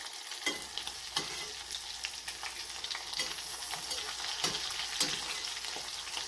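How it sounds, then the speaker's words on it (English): Coconut shrimp fry in a pot of hot oil, giving a steady close sizzle and crackle with occasional louder pops and stirring clatters, and no talk. "And these fry very quickly."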